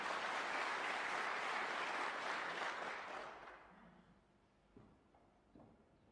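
Spectators at a snooker match clap warmly in a dense burst that fades away after a few seconds, leaving a quiet hall with a couple of soft knocks.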